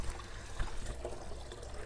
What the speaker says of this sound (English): over the tub spout, and then you just start filling it up